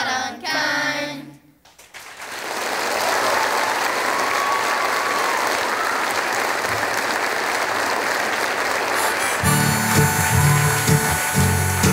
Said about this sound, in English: Another big round of applause for Kurt Wageman's 5th grade